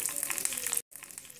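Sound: mustard seeds popping in hot oil

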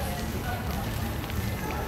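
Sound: food sizzling while cooking

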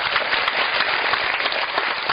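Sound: audience applause at a guitar concert

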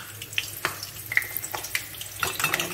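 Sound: washing hands under water tap

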